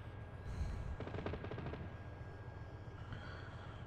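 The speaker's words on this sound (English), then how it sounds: "Shots coming from the northwest." Gunfire in the Arma 3 military game sounds as a faint, distant rattle of rapid shots, a short burst of cracks over low background rumble.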